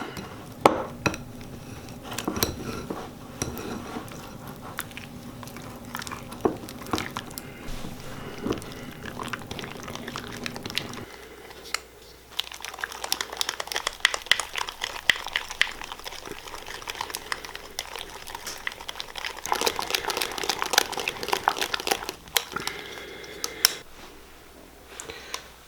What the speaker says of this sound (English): First we're going to take the cream cheese, powdered sugar, and 1 egg and whisk them together